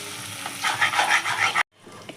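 Baby potato masala fries in a pan, a close sizzle broken by rhythmic scraping strokes of stirring that swell midway, then cut off abruptly into near silence.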